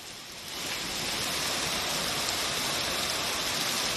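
Steady rain around Nagpur airport during a prolonged downpour, a broad continuous hiss that swells within the first second and then holds even, with no voices.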